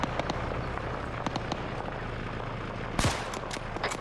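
Sporadic gunfire crackles through a video-game firefight in Arma 3 around Zargabad, with scattered distant shots over a steady low rumble and a louder burst near the end.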